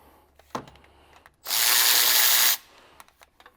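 A ratchet loosening 15 mm bracket bolts during an engine belt change: a short tick before a dense, loud one-second burst of rapid clicking, then quiet with small taps.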